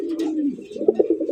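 Several fancy Rasgolla pigeons with red colouring coo close by, a low steady warble rising into a few stronger pulsing coos near the end.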